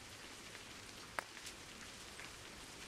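Rain in A Highland Song, a faint, steady patter with one sharp drip partway through and no talking.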